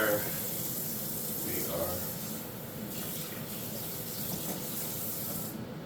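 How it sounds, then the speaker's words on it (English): Cooked pasta drains in a kitchen sink, giving a steady broadband rush of running water that holds through the whole stretch at moderate level, with a person talking over it. "while our pasta is draining"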